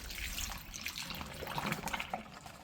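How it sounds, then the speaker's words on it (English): Ultrasonic cleaning solution poured into a bag during carburetor cleaning for a John Deere DLTX mower, a steady close liquid splash and trickle lasting a few seconds with no talk. "And we'll pour the rest of this solution into this bag."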